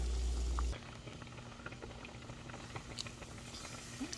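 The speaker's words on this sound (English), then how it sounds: "Penne noodles are boiling." Penne pasta boiling in a pot: soft, steady bubbling and patter, faint and close, after a brief low rumble at the start.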